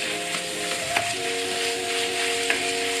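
Chicken frying in a little oil for fried rice, a steady close sizzle and hiss with a couple of brief clinks from stirring.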